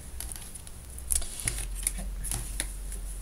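Tarot cards are cut and shuffled by hand, giving soft, close papery slides and flicks with a few crisp snaps, quiet and with no talk over them.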